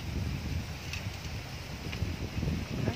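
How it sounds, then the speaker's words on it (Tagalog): Outdoor wind blows steadily, gusting and buffeting a nearby microphone with low rumbling noise and faint rustle, no talk over it. "Medyo mahangin siya, guys."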